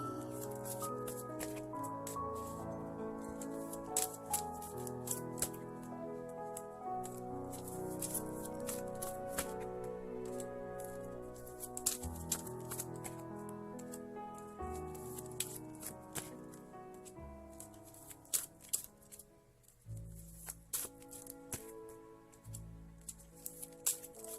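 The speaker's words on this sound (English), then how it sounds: "One more shuffle, they say." Dixit cards being shuffled, with a steady patter of riffling and ticking card sounds running beneath continuous background music for the whole stretch.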